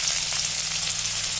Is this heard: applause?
no